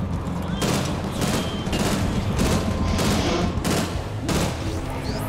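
Rapid gunfire in a shooter video game, repeated bursts of shots in clusters over a steady noisy backdrop, close and loud with a voice faintly under it.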